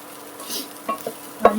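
Vegetables seasoned with chili powder fry quietly in a pan on an induction cooktop, with soft sizzling and a few clinks and scrapes of stirring near the end, close by and without voices.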